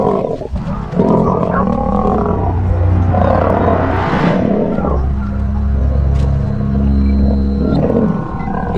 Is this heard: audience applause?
no